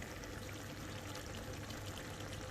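Mustard oil poured into a cooking pan of potatoes and tomatoes, a faint continuous trickling pour, quiet and close.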